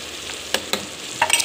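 Tomato cooks in hot oil in a pan, a soft, steady sizzle broken by a few sharp clicks of a utensil scraping and stirring.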